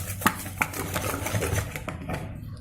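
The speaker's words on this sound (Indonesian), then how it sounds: "Kemudian tepung terigu saya aduk juga supaya tercampur merata" Wheat flour being stirred into a mixture of sticky rice and coconut milk, a close, steady rhythmic scraping and tapping of a utensil in a bowl.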